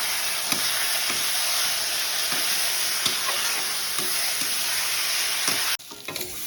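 Ground spices frying and being stirred in oil in a pan for a Bengali katla fish kalia, a steady loud sizzle broken by regular soft scrapes of the spoon, then a sudden drop to quieter crackling near the end.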